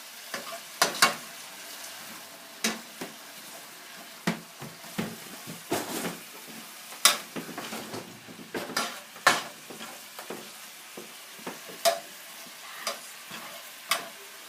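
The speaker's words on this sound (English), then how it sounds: "And finally we stir it around." Carrots frying in a pan while being stirred, with a soft background sizzle broken by frequent sharp scrapes and clicks of a utensil against the pan, irregular and close, with no talking.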